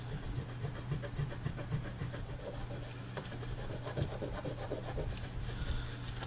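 Hand-scrubbing rust and crud off a metal part from an old Peter Pan radio, a steady rasping rub that continues nonstop for several seconds, close and fairly loud, with a low hum underneath and no talking.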